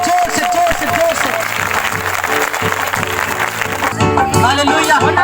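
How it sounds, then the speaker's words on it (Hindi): A church congregation at a live Christmas meeting claps loudly and steadily, with a voice speaking over the applause and crowd noise. "सब लोग जोर से ताली बजाएंगे"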